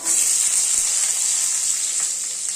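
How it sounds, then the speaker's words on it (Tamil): Small shallots and garlic sizzling in hot oil in a steel pan while a Turkey berry gravy is being made, a loud, steady hiss with no speech. "இது பொரிஞ்ச உடனே சின்ன வெங்காயம் பூண்டையும் போட்டுக்கலாம்"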